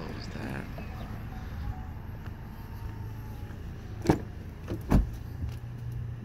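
The rear liftgate of a 2019 Chevrolet Equinox shuts. A low steady hum runs underneath, and a couple of sharp thumps land close together near the end as the gate latches.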